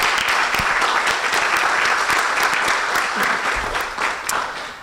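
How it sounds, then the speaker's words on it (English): Audience applause at a hybrid summit, a crowd clapping steadily throughout with a few sharper individual claps standing out, tapering a little near the end. "a round of applause for the entire 19th team, our newsroom, everyone"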